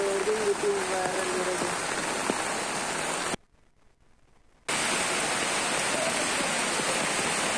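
Heavy rain pours steadily over a flooded area in the Erumapetty and Velur panchayats, a dense, loud hiss of water that briefly cuts out before resuming.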